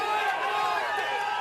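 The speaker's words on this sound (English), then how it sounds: "Listen to the crowd, Colin." Crowd noise at a strongman competition during a heavy static lift, a steady, loud wash of cheering and shouting voices sustained across the whole moment with no pauses.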